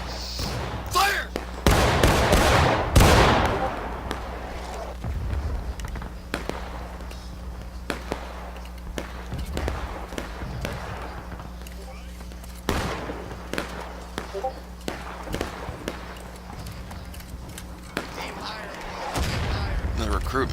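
Union musket volley from the 17th Michigan line in the Civil War game War of Rights, a loud crashing burst early on followed by scattered distant shots and soft background voices.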